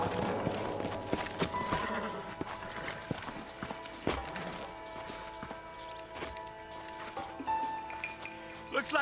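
Horses' hooves clip-clopping in the video game Red Dead Redemption, faint irregular clops with game ambience and brief voices around them.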